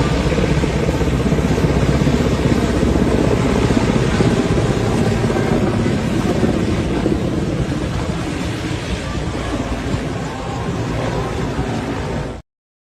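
Loud, sustained engine roar of an aircraft in flight, carrying ministers and senators in Nigeria, a steady drone that holds for about twelve seconds before cutting off abruptly.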